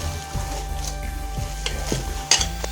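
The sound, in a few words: ragi onion pakoda frying in hot oil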